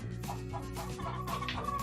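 A Wyandotte hen clucks softly and repeatedly in low, throaty murmurs, with steady background noise and no talking.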